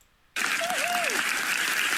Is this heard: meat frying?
no